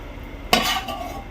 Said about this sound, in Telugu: ఈ చికెన్లోకి ఇప్పుడు ఫ్రై చేసుకున్న ఆనియన్స్ వేస్తున్నా